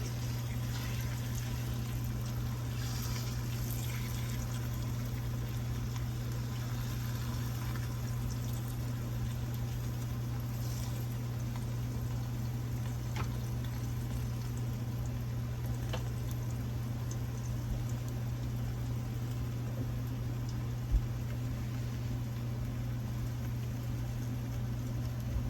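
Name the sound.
tortillas bubbling while cooking in olive oil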